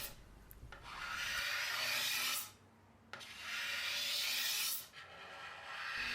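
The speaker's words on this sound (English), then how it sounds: "You can get scrapers with concave edges, but I'm just used to this one, I guess." A hand scraper shaves a wooden guitar neck in long, steady rasping strokes, two sustained scrapes separated by brief pauses, close and fairly loud with no talking.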